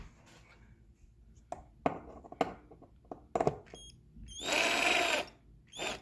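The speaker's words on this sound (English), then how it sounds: "So very easily reverse drill, take these out, just back them out a little bit." A drill running in reverse backs screws out of a roller blind bracket. One loud whirring burst of about a second follows scattered soft clicks and handling taps, and a shorter burst comes at the end.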